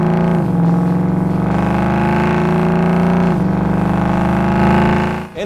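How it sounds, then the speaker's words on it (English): A 2011-2013 Mustang GT with a Flowmaster Outlaw axle-back exhaust, loud and close, holding a steady raspy V8 drone, dropping briefly and climbing again in pitch as the throttle is worked, then cutting off at the end. "as advertised, the Outlaw is an absolute screamer"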